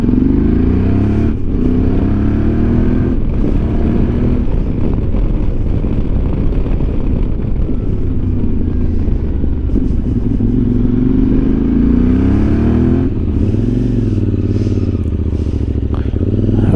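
QJMOTOR SRT 600 Touring 2025 motorcycle engine heard on the move, a loud steady drone with rising and falling pitch as the rider accelerates and eases off, with wind and road noise throughout and no talking.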